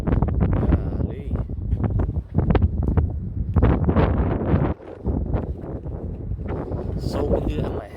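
Strong outdoor gusts buffet a phone microphone in a loud, continuous low roar with surges and dips, while a person talks over it.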